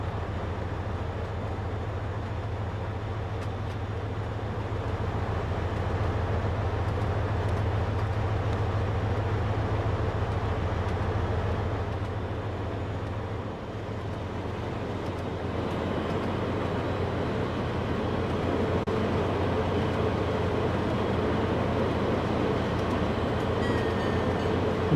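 A train on the East Point branch runs along the rails in snowy conditions with a loud, steady low rumble and continuous wheel and track rattle. The noise carries on for the whole stretch with no voices.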